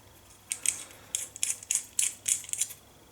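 Metal razor parts being threaded together by hand, giving a series of about eight small, close, crisp clicks and scrapes in an irregular rhythm, with no one talking.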